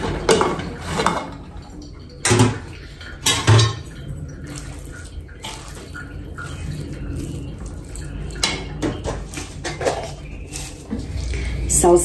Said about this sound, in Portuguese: E agora eu vou mexer tudo.